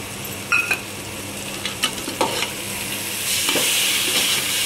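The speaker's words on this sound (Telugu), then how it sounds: "పెరుగు వేసుకొని బాగా కలుపుకోవాలి" Yogurt being stirred into a vegetable biryani mixture in a pan makes a close, scraping stir with light clinks over a continuous sizzle, louder toward the end.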